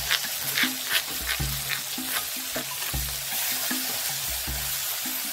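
Snails being stir-fried with spices in a pan, a steady sizzle and frying hiss with rhythmic clanks and scrapes of a utensil stirring against the metal, close and continuous.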